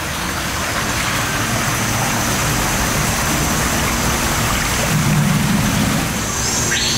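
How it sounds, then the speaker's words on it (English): Water trickles and drips in a rainforest exhibit at a SEA LIFE aquarium, a steady, even wash of splashing with no break and no voices. "You see, the water's dripping down, just like it would be there."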